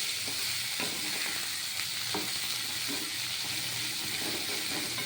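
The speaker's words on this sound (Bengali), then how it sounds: "এই মূলো শাক ভাজা করতে গেলে একটু তেল লাগে" Radish greens, Bengali style, fry in oil in a pan: a steady, dense sizzle runs close and even throughout, with faint stirring scrapes now and then and no talking.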